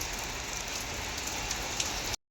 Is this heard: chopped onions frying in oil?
no